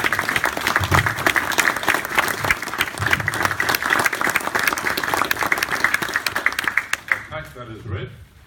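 Meeting audience clapping by acclamation to approve a life membership nomination at a community radio gathering, steady dense applause for about seven seconds before tapering off, with some talk over the end.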